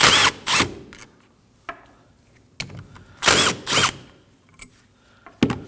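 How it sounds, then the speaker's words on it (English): Front brake caliper bolts on a 2011–2016 Kia Optima are loosened with a 14mm socket on a power tool, giving short loud whirring bursts, the second pair longer, separated by quiet clicks close by. "Using a 14mm socket,"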